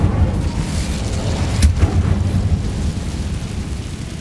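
The Incendio fire spell in the video game Hogwarts Legacy is cast with a low, rumbling roar of flame and one brief sharp crackle near the middle, fading to a steady drone.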